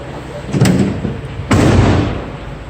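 The sliding side cargo door of a 2017 Ford Transit T-150 mid-roof, short-wheelbase cargo van moves with two heavy metallic thuds about a second apart, each leaving a brief rumbling rattle, loud and close.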